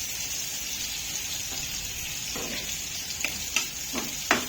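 Black cumin seeds tempering in hot oil for a Bengali bata fish curry, a steady close sizzle and hiss with a few sharper spits and crackles toward the end.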